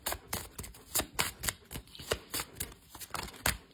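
Playing cards are shuffled and drawn close by, a quick run of crisp riffling snaps and flicks repeating in an uneven rhythm, with no voices.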